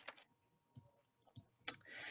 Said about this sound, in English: So now we have our typewriter effect.